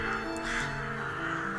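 Crows cawing as a sound effect in a tabletop roleplay game podcast: several harsh caws blend into a dense, steady layer over a continuous background bed.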